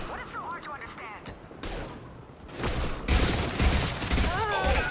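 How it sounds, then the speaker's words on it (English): Mass Effect 2 combat: a high-impact shot and a volley of gunfire crack and boom in bursts that grow louder and denser, mixed with mechanical clatter and voices calling out. "Firing a high-impact shot!"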